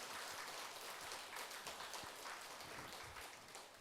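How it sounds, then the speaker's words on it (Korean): Faint, steady applause from an audience at a Buddhist dharma assembly, a soft continuous patter of many hands clapping that carries evenly across the whole span. "박수"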